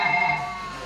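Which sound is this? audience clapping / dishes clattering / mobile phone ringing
mobile phone ringing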